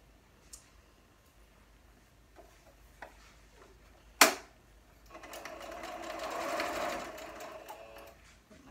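Sewing machine chain piecing half-square triangle quilt blocks, starting with a few faint ticks and a sharp click, then running in a steady mid-distance whir for about three seconds, alone with no talk.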